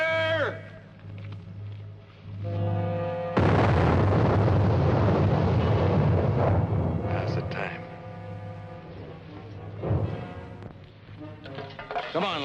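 A single loud blast goes off after a shouted blasting warning in an 1876 Leavenworth, Kansas prison setting, a deep rumbling burst that swells suddenly and slowly decays, with voices before and after it.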